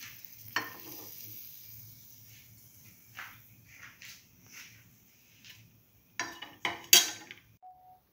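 Okra chickpea flour fritters fry quietly in oil with a faint steady sizzle, broken by a few soft clinks and scrapes of a utensil against the pan and a sharper clatter near the end.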